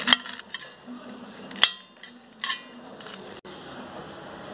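A knife cuts through a fried milk snack on a plate or board in a home kitchen, giving a few soft scattered clinks and taps with faint squishy cuts, quiet and close.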